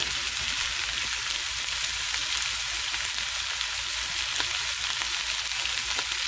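Quinoa and cluster beans fry on a medium-high flame, giving a steady, dense sizzle with fine crackling that holds at an even, fairly loud level throughout, with no voices over it.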